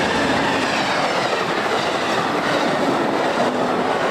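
A train rolling past at a station, its steady broadband rumble and rattle of rail cars filling the whole stretch loud and close, with no pauses or talk.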